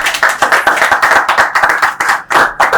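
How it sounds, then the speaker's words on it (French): A studio audience at a French-language entertainment talk show claps hard and fast, sharp, close hand claps in a steady, slightly uneven rhythm, loud and alone for the whole stretch. "Maximum d'acclamations pour eux, s'il vous plaît."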